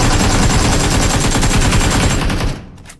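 Rapid, continuous bursts of automatic gunfire in Battlegrounds Mobile India, with a processed, game-like quality, rattle loudly for over two seconds, then cut off abruptly.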